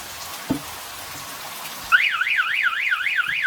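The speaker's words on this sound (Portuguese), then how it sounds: "E o nosso alarme disparou." After a couple of faint knocks, a warbling electronic alarm starts up and sweeps steadily up and down in pitch.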